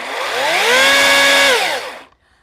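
An electric chainsaw revs up, its harmonic whine rising, holding steady, then falling away before it cuts off; nearby and loud, alone with no talk, run against a wooden post for a strawberry high tunnel.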